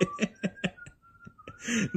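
Someone whistles the Detective Conan theme close by, steady pitched notes over rhythmic soft breathy sounds, ending with a brief laugh-like burst.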